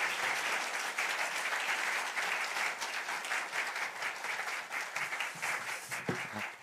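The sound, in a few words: church congregation applauding the pastor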